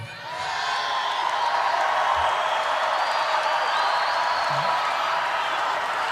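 A large crowd at a Donald Trump rally in Tampa, Florida roars and cheers steadily, a dense wash of voices and whoops filling the space without letup for several seconds.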